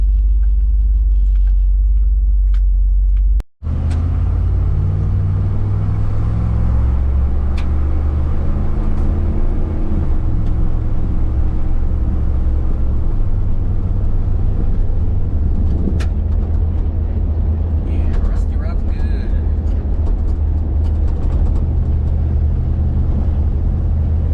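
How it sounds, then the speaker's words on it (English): A vehicle engine runs and revs in a long, loud, continuous rumble heard from close by inside, briefly cutting out once near the start before resuming with steady swells. "A little more responsive in the throttle. A little more responsive when I rev it up."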